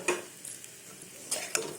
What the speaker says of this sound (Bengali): তো এটাও একটুখানি কষিয়ে নেব আলুটা